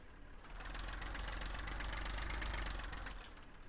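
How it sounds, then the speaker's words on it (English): A vehicle engine in a farming video game idles at slow revs, producing a steady, even mechanical rumble that holds at a constant level for about three seconds before easing off. "that engine sounds quite nice on slow revs"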